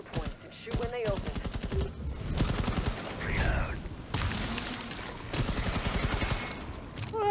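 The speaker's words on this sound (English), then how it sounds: "Aim at the anchor points and shoot when they open." Rapid gunfire from a Rainbow Six Extraction match fills the scene as anchor points are shot, dense bursts of automatic fire with electronic game effects layered throughout, loud and nearly continuous.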